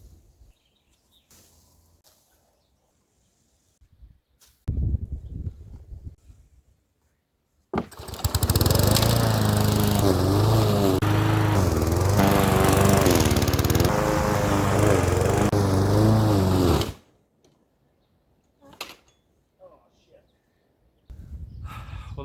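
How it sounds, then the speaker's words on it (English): A lawn mower on a farm roars loudly for about ten seconds in a steady drone, then cuts off abruptly, with quieter thumps and outdoor sounds before and after. "that's the end of the mowing for now"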